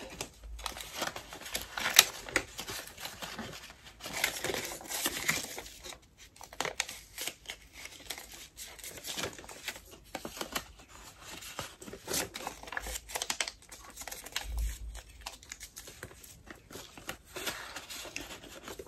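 Banknotes, 80 euros of food budget, are slipped into a paper envelope: close, crisp paper crinkling and rustling in uneven bursts with short quiet gaps, no talking.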